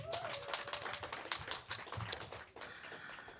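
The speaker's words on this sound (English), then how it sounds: "Round of applause for Tay." Scattered clapping from a small audience at a poetry open mic, uneven and moderately close, with a faint voice or whistle drifting through the first second before the claps thin out.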